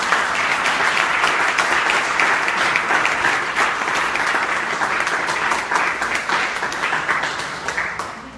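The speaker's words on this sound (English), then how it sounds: "So round of applause for our first recipient here." Audience at a Rising Leaders reception in downtown Topeka applauding an award recipient, dense sustained clapping from a roomful of people, loud and steady before tapering slightly at the end.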